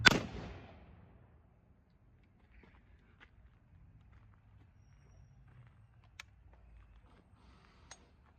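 A single loud report from an 1861 Springfield rifle opens the stretch, its sharp crack fading into a long decaying rumble, followed by quiet outdoor ambience with a few faint clicks.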